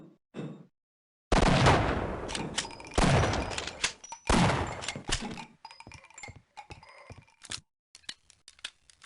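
Shotgun blasts ring out in the video game Half-Life: Opposing Force, several loud booming shots in quick succession followed by fainter clicks and scattered smaller pops.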